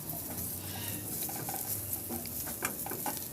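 Crushed garlic with its skins left on sautéing in a dark wok for pork adobo, a steady close sizzle with scattered stirring clinks and scrapes of a utensil against the pan.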